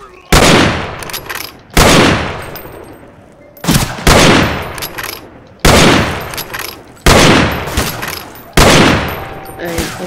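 Gunfire in a Wild West sniper video game: six loud, booming shots spaced about every second and a half, each with a long rumbling echo tail, close and dominant.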